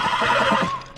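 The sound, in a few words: horse whinny in video game The Last of Us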